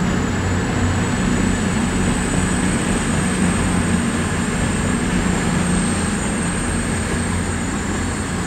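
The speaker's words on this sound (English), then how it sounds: "the train is about to come into platform one." A train pulls into platform one at Exeter St David's station in the evening, a loud, steady rumble and hum holding throughout with no voices over it.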